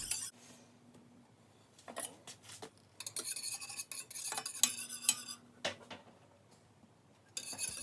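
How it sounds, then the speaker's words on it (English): Spoon scraping and stirring a banana pudding mixture in a pot on the stove over medium heat, with repeated metallic rubbing strokes in uneven bursts, close and moderately loud, with no talk. "So now you're just going to boil this on medium heat, stirring it the whole time until it boils."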